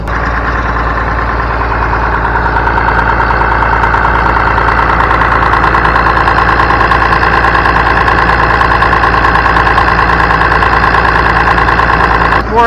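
Engine idling steadily while warming up on a farm machine used for shelling corn, with a loud, close, unbroken rumbling drone and a faint knocking tick throughout, no talking.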